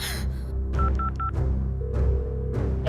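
An unanswered telephone call sounds as a run of three short, evenly spaced electronic beeps, followed by a pause and a faint further tone. The beeps sit over a low, rumbling background.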